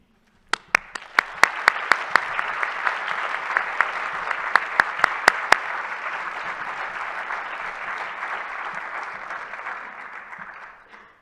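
Audience applause at a Boise State Listens event, a few sharp isolated claps first, then a steady wash of clapping that holds for several seconds and fades out gradually at the end.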